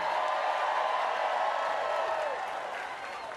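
A large crowd of North Carolinians at a post-debate rally cheers and applauds in a dense, loud, sustained roar that stays steady throughout.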